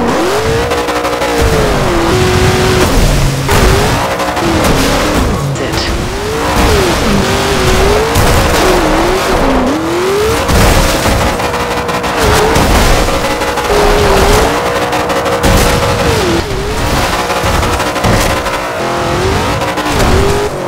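A racing car engine in Forza Motorsport 6 revs hard and loud through repeated gear shifts, the pitch climbing and dropping again and again, with tire noise underneath throughout.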